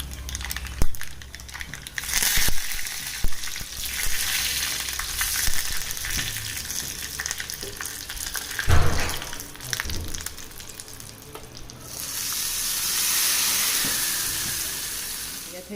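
Spices crackle and sizzle in hot oil for a tempering that will season a crushed chutney, set in a home kitchen. The sizzle keeps up steadily at close range, with a few louder bursts and stirring noises along the way.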